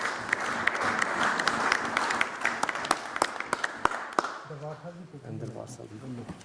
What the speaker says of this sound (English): let's all applaud this